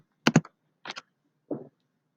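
A few sparse keystrokes on a computer keyboard: a quick double click, a pause, another pair, then a single softer press, close and isolated in a quiet room.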